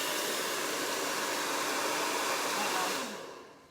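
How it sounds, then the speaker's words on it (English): A hairdryer blows steadily and loudly over wet black paint, a continuous close whoosh that holds even for several seconds and then quickly fades as it is switched off or pulled away. "We're just going to flood it over with the hairdryer."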